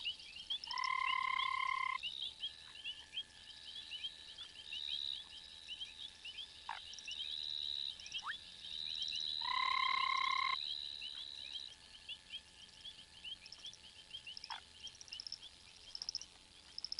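Foam frogs croak and call from a tree above a pond, with two loud, long tonal bursts near the start and middle. Softer sustained calls and short clicks continue between them, and no one speaks.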